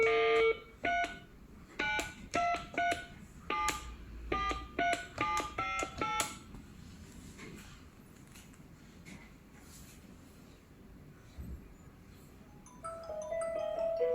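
Corded caller ID landline telephone, model ECG-019, dialing in hands-free speakerphone mode: a quick run of short, evenly spaced keypad tones and beeps, then a quiet stretch of faint line hiss before a steady dial-tone-like hum returns near the end.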